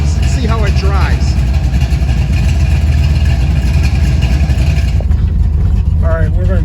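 A 1975 Pontiac Firebird Trans Am with a 455 engine rumbles steadily at idle, a dense low drone running the whole time, with a voice talking over it near the start and the end.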